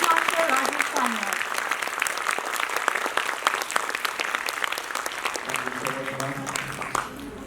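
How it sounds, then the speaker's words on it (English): An audience at a quiz show gives a big round of applause for an honoured guest, dense and loud clapping that carries on steadily, with a voice and music-like tones emerging faintly near the end. "please give a big round of applause for the Chief Master Rajesh Sanyal"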